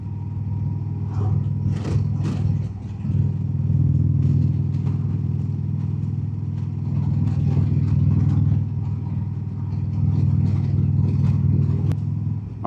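An Indian Roadmaster motorcycle on historic Route 5 in Virginia, its engine rumbling steadily while riding at speed, heard from the rider's position through a helmet, with wind buffeting and light clicks on top.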